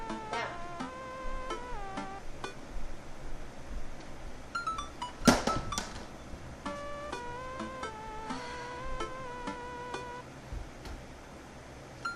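A house cat meowing in short, faint calls scattered across the stretch, with light ticking and a brief clatter midway, in a quiet room.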